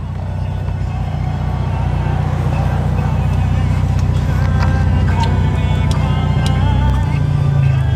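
A used automatic car's stereo plays music through its speakers inside the cabin, a steady full sound with strong low bass and tonal lines running continuously throughout.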